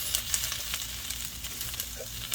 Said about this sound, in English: We're gonna saute this.